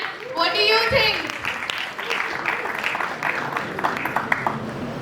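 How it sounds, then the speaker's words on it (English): Audience at an international startup competition applauding and cheering for a newly announced startup, a sustained wash of clapping with a voice speaking over it at the start. "Can I get a huge round of cheer for them?"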